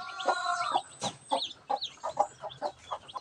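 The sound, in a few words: newly hatched chicks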